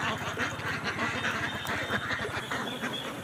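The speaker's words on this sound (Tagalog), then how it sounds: "pinapauwi na natin yung ating mga alagang itik para sa gabi makapag-relax na po sila." Domestic ducks being herded home for the evening, quacking in a busy overlapping chorus of rapid nasal calls from a flock nearby, continuous throughout.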